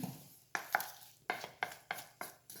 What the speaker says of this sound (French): Je mélange avec une spatule.